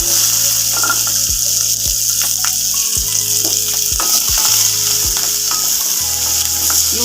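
Sliced onions fry in a pan for a healthy pirandai chutney, giving a loud, continuous close sizzle with repeated scraping stirs of a spatula and no one talking.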